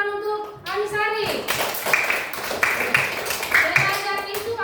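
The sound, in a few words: children clapping hands in a classroom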